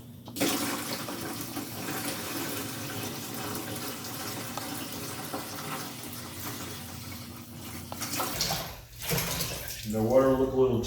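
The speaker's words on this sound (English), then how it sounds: "I'm gonna add a little more water in here for today." Water pours steadily into a tadpole tank, a continuous splashing and gurgling stream that runs throughout, then breaks off near the end, where someone speaks briefly.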